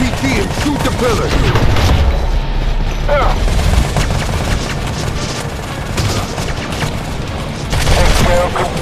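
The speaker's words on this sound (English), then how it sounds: "Grab that RPG and shoot the pillar." A dense in-game battle in the Modern Combat 3 shooter, where an RPG is fired at an overpass pillar, brings heavy gunfire bursts and booming blasts close and loud throughout, with a voice heard in the clip.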